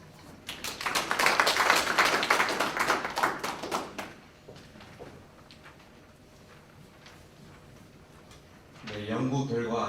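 Audience applause at a public forum on foreign regulation and side effects, a dense burst of clapping for about four seconds that fades to scattered claps, with a voice speaking over the end.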